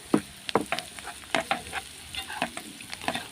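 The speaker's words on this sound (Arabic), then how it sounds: "بنسيب البصله تدبل بس، وننزل عليها معلقه الثوم" Onion and garlic fry in a pan while a spoon stirs them, giving a steady close sizzle broken by repeated scraping strokes. The onion is being softened for a chicken liver and gizzard dish. No voices are heard.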